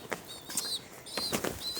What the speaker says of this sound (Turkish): şöyle kuşun uçumuyla kapanışı yapmak istiyorum